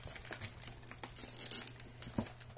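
A package being opened by hand, with continuous close crinkling and rustling of plastic wrapping and a few tearing sounds, quiet overall, without speech.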